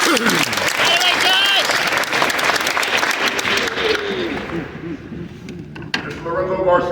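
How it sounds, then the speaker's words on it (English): Audience applause at a high school signing day ceremony, a sustained wash of clapping and cheering that tapers off as a voice takes over. "Give him a round of applause"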